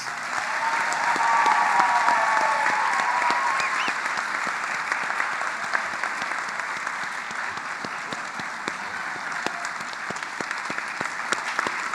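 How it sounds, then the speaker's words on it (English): Sustained crowd applause at a Doctor of Physical Therapy white coat ceremony for the class of 2026, dense steady clapping filling the hall, swelling early then holding evenly throughout. "I would like to encourage one more round of applause at this time for the class of 2026."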